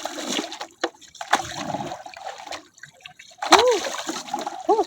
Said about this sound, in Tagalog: Sarap maligo sa dagat.